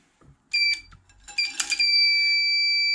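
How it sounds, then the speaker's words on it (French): A primer-empty buzzer on a Dillon 650XL ammunition reloading press sounds in a loud, steady electronic tone that starts in short bursts and then holds continuously, with faint mechanical handling noise of the press in between. "et ça sonne, et ça veut dire qu'il n'y a plus d'amorce."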